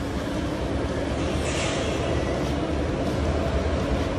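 A steady rumbling roar of an LRT train in motion, constant and fairly loud throughout with no pauses.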